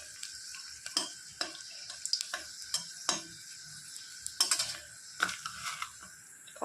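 Dried red chillies hiss and crackle in hot mustard oil, a quiet close sizzle broken by sharp pops and clicking spoon-on-pan stirs.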